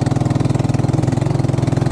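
A motorcycle engine runs at a steady idle, loud and close, with fast even pulsing throughout and no voices.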